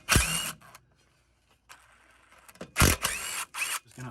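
A socket wrench loosens the top nut on a front shock absorber of a 1993–2011 Ford Ranger, giving a few short, close metallic ratcheting bursts separated by brief pauses.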